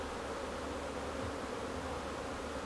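Bees buzz densely around a hive above the brood nest, a steady, close, unbroken drone with no voices.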